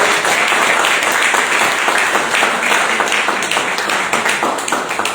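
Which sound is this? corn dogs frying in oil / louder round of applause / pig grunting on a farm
louder round of applause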